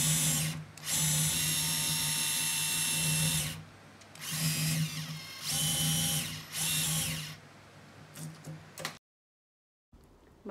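A power drill from IKEA whirs in several long bursts while backing nails out of a wall indoors, loud and close, with short pauses between runs and a silent gap near the end.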